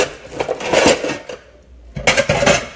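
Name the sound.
washing dishes, clinking dishes and cutlery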